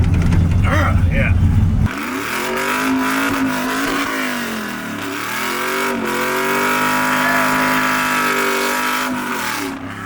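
A Chevrolet Silverado truck with a 5-speed manual pulls hard in second gear, its engine drone climbing and dipping in pitch as it revs, loud and close from inside the cab after a brief loud burst at the start.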